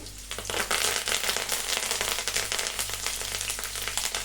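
Curry leaves and dried red chillies crackle and sizzle loudly in hot oil, a dense continuous spattering hiss close up that starts abruptly and carries on without speech.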